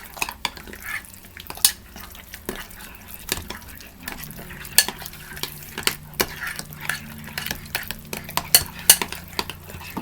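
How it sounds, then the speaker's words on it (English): Egg stirred into soup in a pot, a busy run of clinks and knocks of a utensil against the pot over a soft, faint bubbling, close by and steady, with no talking. "Let's give that a good stir."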